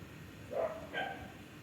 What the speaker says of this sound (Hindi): यार यार कुत्तों का क्या किया जाए